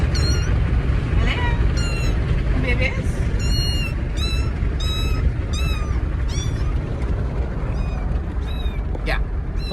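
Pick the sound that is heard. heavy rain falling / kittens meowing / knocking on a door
kittens meowing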